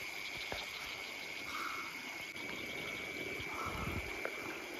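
Frogs and insects call together near rice paddy water, a steady outdoor chorus of faint croaks and high trilling with a constant bed of sound throughout.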